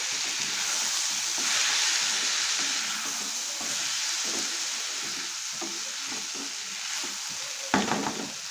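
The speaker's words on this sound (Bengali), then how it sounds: "ডালটাকে সবজির সঙ্গে একটু ভালো করে একটু মিশিয়ে নেড়ে করে নেব" Masoor dal is stirred into sizzling vegetables in a pan for a vegetable semolina khichuri, making a close, continuous frying hiss with repeated scraping strokes and a sharper clatter near the end. No talking.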